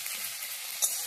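Chopped onion, chilli and ginger frying in a pan, a steady bright close sizzle, with one quick scrape of the stirring spoon near the end.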